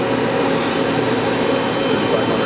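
Citizen M-20 CNC Swiss-type lathe with its main spindle spinning up, a loud, steady high whine and broadband machine roar that holds constant throughout, with no talk over it.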